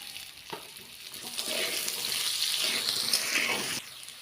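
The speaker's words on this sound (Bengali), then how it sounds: "একই তেলে এবার আলুগুলিকেও আমরা ভেজে নেব" Potatoes seasoned with turmeric and salt fry in oil in a kadai, giving a close sizzle that swells after a soft start, holds steady with light stirring noises, then drops off abruptly near the end.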